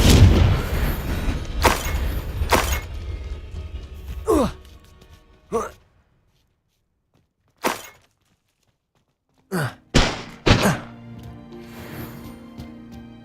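Confringo blasting-spell explosions go off in the Hogwarts Legacy video game: several sharp booming bursts, some close together and others separated by quiet gaps.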